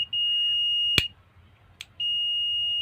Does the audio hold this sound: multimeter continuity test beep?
yes